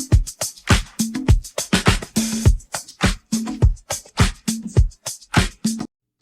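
Isolated drum stem from a retro-style production, with punchy snare and clap hits landing in a steady groove alongside tight kick and hi-hat strokes, loud and dry with no voices.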